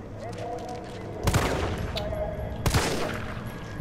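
Two sharp, loud gunshots from the Resident Evil 3 Remake game ring out about a second and a half apart, each with a trailing echo, over faint background sound.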